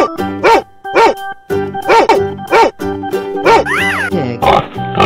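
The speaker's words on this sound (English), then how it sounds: "Dog." Several short, bouncy barks in a cartoonish, toy-like tone, repeating at an uneven pace over a busy musical background.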